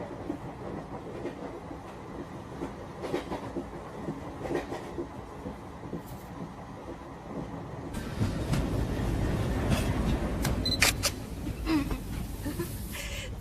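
A passenger train rolls toward a station, with a steady rumble and faint rhythmic clatter of the carriage wheels that grows louder and busier partway through.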